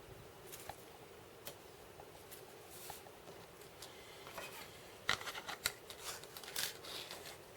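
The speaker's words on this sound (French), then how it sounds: "je vais venir rectifier avec mon ciseau" Scissors trim crepe paper flower petals in a quiet room, making faint, scattered snips that grow a little more frequent and crisp toward the end.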